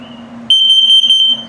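An RV LP gas and carbon monoxide detector, fitted in a 2021 XLR Micro Boost 25LRLE toy hauler, sounds a loud, shrill test alarm of rapid close beeps that cuts in halfway through, over a low hum.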